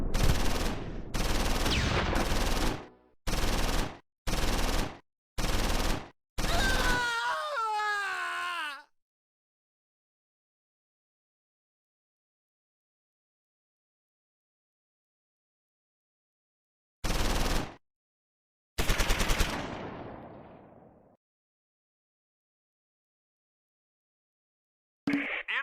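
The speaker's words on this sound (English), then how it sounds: "But are detected and come under fire." Gunfire in the Close Combat 4 Battle of the Bulge wargame, loud clipped bursts of shots in quick succession, then silence, then a few more bursts with a fading wail and a final sharp shot.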